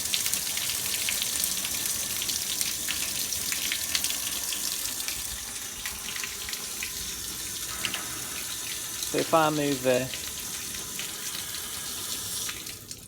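Water gushes steadily from a rainwater harvesting pipe as pressure builds, a continuous hissing splash with someone briefly speaking over it.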